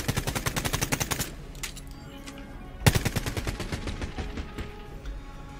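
Rapid gunfire bursts from a sci-fi shooter, Quantum League, crackle in quick repeated volleys, pausing briefly and then resuming with a sharp loud shot followed by more steady rattling fire.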